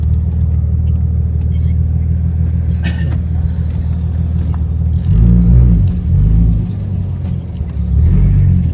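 A car passes close by on a road, its loud low rumble steady at first, then swelling and wavering as it goes past, with faint voices in the background.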